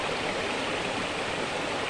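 Steady flowing water, a stream or small waterfall, runs as a constant broadband rush with no breaks, close and fairly loud, with no voices.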